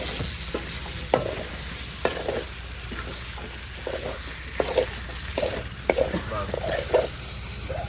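Freshwater shing and magur fish cook in a pot of thick spice masala with a constant close sizzle. Repeated scraping knocks of a stirring spoon come through it, and a voice speaks faintly at times.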